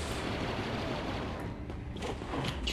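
Blaster fire in the video game Star Wars Battlefront II, a dense and steady barrage of shots with explosions that sounds like continuous battle noise from start to finish.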